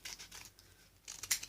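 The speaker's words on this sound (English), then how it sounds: "then you need some scissors" Scissors snip through folded paper in a few quiet crisp cuts, with small rustles between them, faint and close at hand.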